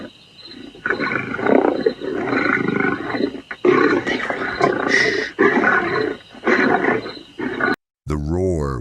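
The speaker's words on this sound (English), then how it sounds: "The roar was so close and loud that it could wake someone from their sleep as it echoed through the darkness." A big cat roars close by in the darkness on a hiking trail, deep grunting roars repeating in bursts, mixed with voices, then a sharp cut to a warbling tone.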